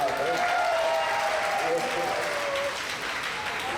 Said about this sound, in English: big round of applause for that man right